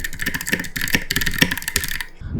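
Fast, close clatter of keys on a computer keyboard as a search is typed, a dense burst of clicks lasting about two seconds before stopping.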